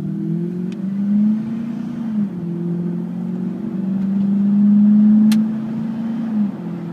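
A 1998 Dodge Durango SLT four-wheel-drive SUV drives along steadily, its engine humming low and rising and easing as the transmission shifts smoothly, heard from inside the cabin at a steady moderate level.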